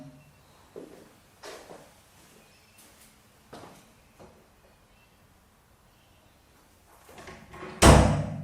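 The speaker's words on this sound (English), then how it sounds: "So just going to close the first door." A heavy recording studio door closes with one loud, close thud, after several faint knocks and shuffles in an otherwise quiet room.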